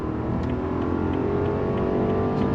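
A 2024 Rolls-Royce Ghost with an 8-speed automatic accelerates hard under throttle, heard from inside the cabin as a steady, loud, smooth engine drone mixed with road rumble, with no talking.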